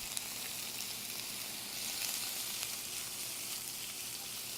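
Red snapper sizzles and fries in a pan of hot oil with garlic, a steady dense crackle and hiss at close range with no voices over it.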